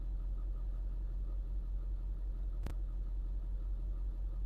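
A diesel engine with a leaking cylinder idles in a steady low rumble, close and even, with one sharp brief click partway through.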